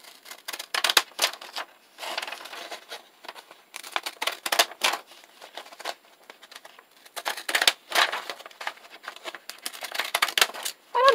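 Scissors cut through paper while a junk journal is made, giving quiet, irregular snipping and crisp rustling in short bursts with brief pauses between cuts.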